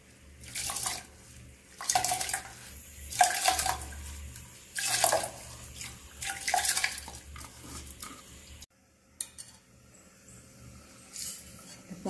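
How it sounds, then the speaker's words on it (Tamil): Water poured into a pot of soaked rice and split moong dal while making ven pongal, heard as several bursts of splashing and trickling, close and moderately loud, followed by a few clinks and quieter pouring. "இப்போ 4 கப் தண்ணி விட்டுக்கணும்."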